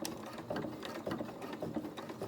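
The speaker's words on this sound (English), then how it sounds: "now I'm just going to take a couple of stitches forward" A sewing machine runs steadily while stitching a trouser hem, a fast, even mechanical whirr with a regular ticking needle rhythm, close up and alone.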